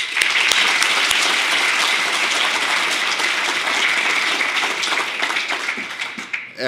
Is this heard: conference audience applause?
yes